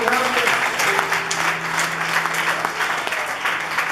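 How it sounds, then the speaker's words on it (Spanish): A Sunday church congregation claps together in a loud, sustained round of applause during a sermon, with faint voices mixed into the steady clapping. "dale un aplauso grande"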